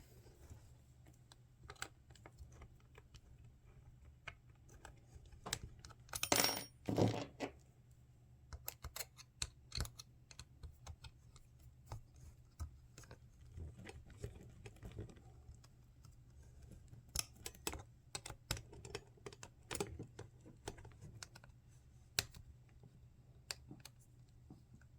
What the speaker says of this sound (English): We're going to tighten these up with an Allen wrench that they provided for me.